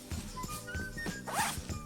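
A clothing zipper zips along a garment layer with quick rasping strokes, close and clear, repeating several times in a short burst with no talking.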